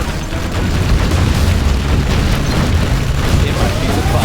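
Airstrike ordnance explosions in Command & Conquer Generals, a continuous, loud rumbling barrage of booms and blasts with no pause.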